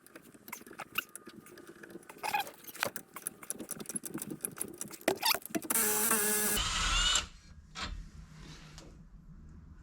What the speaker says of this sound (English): we'll just crack that loose first with a breaker bar, and then we can rattle gun it out